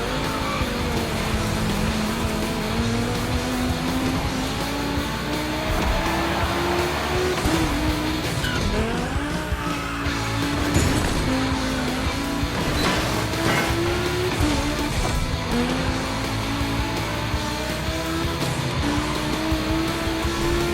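Volkswagen race cars on a track in The Crew Motorfest, engines droning loudly and continuously with rising and falling revs through gear changes, plus brief tire squeals, no voices.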